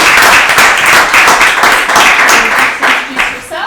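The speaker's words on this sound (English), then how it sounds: "Can we give Michelle a round of applause, please?" Audience applause for a speaker at a breakfast briefing on mental health in the tech industry, a dense, steady burst of clapping close to the microphone that swells and fades slightly over a few seconds, with some voices mixed in.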